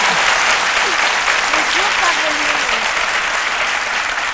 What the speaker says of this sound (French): Méliane Kuni, que je vous demande d'applaudir.